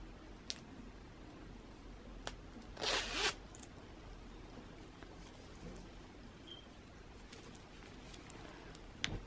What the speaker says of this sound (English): So let me zip it for you guys to show you what it looks like.